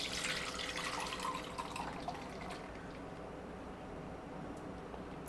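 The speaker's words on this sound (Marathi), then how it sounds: "आता हे मी ना थोडंसं परत गाळून घेते" Blended orange punch with mint leaves strained through a sieve, giving a soft, close trickle and drip of liquid that is strongest at first and then thins to a faint, steady hiss.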